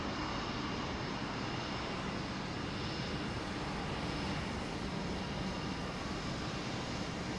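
Airbus A320neo jet engines in Air Canada service produce a steady, loud, broadband roar that holds at an even level throughout, with no clear change in pitch.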